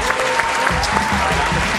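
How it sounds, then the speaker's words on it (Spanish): A studio audience on an Argentine TV talk show applauds a guest's arrival with dense, steady clapping that fills the whole moment, loud and close. "Impresionante, el aplauso para Rosana."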